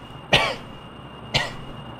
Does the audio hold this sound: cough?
yes